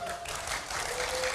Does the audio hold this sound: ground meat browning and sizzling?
no